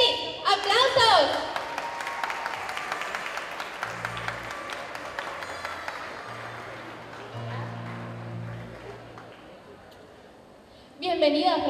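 An audience at a children's singing competition concert applauds a singer, a burst of clapping that fades over several seconds beneath a presenter's voice, then swells again near the end.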